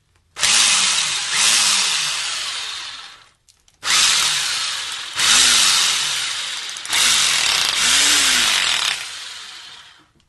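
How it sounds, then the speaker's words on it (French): A power tool cuts a wire channel into a plaster wall in three long, loud bursts of harsh grinding, each separated by a short pause. "je vais pouvoir faire ma saignée pour passer mon fil."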